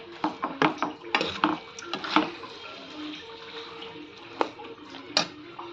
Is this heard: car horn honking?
no